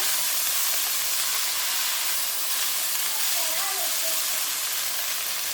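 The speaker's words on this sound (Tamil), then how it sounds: "நல்லா கீரையை இந்த எண்ணெயிலேயே வதக்கிக்கலாம்" Fenugreek leaves sautéing in hot oil in a pan, a continuous bright sizzle and hiss holding steady from start to finish, with no talk over it.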